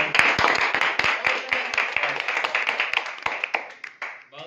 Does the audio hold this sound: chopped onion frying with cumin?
no